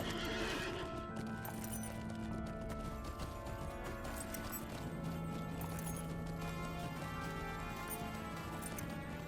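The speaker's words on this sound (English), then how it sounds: "Let me get on my horse and come around the corner" A horse neighs and its hooves clip-clop steadily in the game Lord of the Rings Online, over a constant background of game music and mechanical noise.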